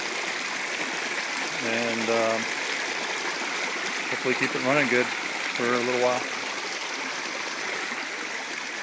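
Water rushes through a farm water line at Ninole, with air and bubbles in the flow. It is a steady, close hiss and gurgle heard throughout while someone talks over it.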